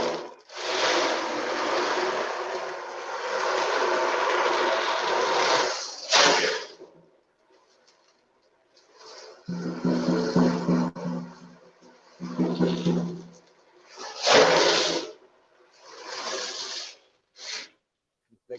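A homemade ocean drum built from a plastic water jug holding bicycle bearing balls is tilted so the balls roll, producing long whooshing rushes like surf that start and stop in bursts of varying length.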